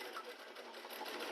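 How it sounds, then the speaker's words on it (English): A sewing machine runs steadily while stitching a fabric cushion cover, producing a close, continuous mechanical whir with a fine rapid texture and no pauses. "Make sure you do not run over the pins in your sewing machine."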